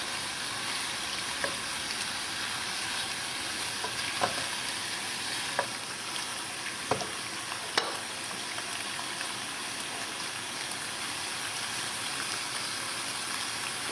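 Pieces of beef browning in a frying pan for boeuf bourguignon give a steady, even sizzle, with a few scattered clicks as the pieces are turned. It is heard alone at moderate loudness.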